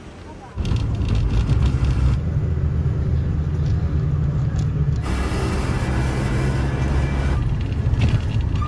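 Bus on the Kathmandu-Pokhara route in Nepal, a loud low engine rumble starting after a brief quiet moment and continuing steadily with road and cabin noise.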